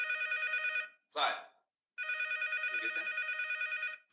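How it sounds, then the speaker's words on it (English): An office telephone rings over and over with no one answering, loud warbling bursts repeating in a steady pattern, broken once by a short voice. "Rings and rings and rings. Sheriff Jones refuses to pick up the phone."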